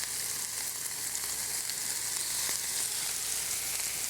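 Ham strips fry in hot oil with a steady, close, bright sizzle and crackle that holds evenly throughout, with no talking.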